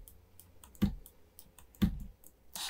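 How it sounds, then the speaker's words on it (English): Two sharp, close clicks about a second apart from a computer keyboard and mouse while working in Maya, with faint softer taps between them in a quiet room. "You can hit G on your keyboard to repeat the last action."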